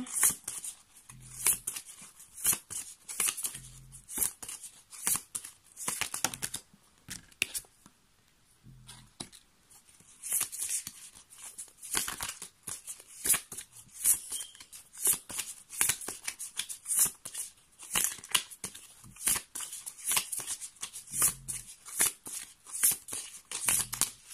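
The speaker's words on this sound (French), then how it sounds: "je tire la dernière carte" Cards are drawn and shuffled close up during a card reading, a long stream of soft riffles, flicks and papery slides, with quiet murmured speech in places.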